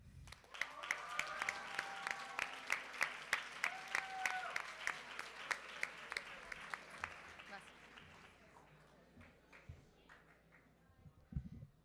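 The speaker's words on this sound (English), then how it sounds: "please stand up in your seat and receive a round of applause for your hard work" Audience applause for a delegate at a Model United Nations closing ceremony in Cancun: a hall of clapping with distinct sharp claps, heard alongside voices, fading after about eight seconds to scattered claps.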